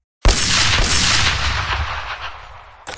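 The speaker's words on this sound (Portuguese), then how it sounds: "Está ouvindo o eco dos disparos?" A sudden loud blast opens into a long rolling boom that slowly fades, then a second sharp shot cuts in at the very end.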